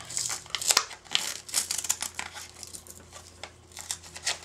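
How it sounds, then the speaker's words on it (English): Close, quiet crinkling and rustling of paper as a paper envelope is carefully pulled apart at its seams, in soft irregular bursts. "I am going to very carefully take it apart at the seams, trying not to rip it."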